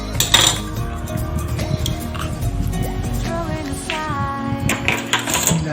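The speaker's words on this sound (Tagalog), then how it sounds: "magbiyak tayo ng itlog" An egg cracks against a bowl rim in a home kitchen while making crispy popcorn chicken, sharp little taps and clinks among other utensil sounds.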